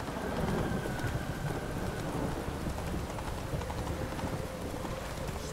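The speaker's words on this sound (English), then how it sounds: "Riding on a horse" Horse hooves clip-clopping steadily while riding in The Witcher 3, a continuous rhythmic patter under a constant wash of ambient background noise, no talk.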